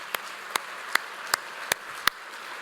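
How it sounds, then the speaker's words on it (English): Scattered claps ring out at a steady pace over a soft crowd murmur at a radio station's 100th anniversary celebration. "I want to give him a round of applause."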